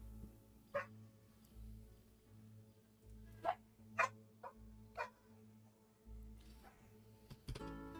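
Several short, sharp dog barks ring out one by one at irregular intervals, moderately close, over a low steady hum in the background.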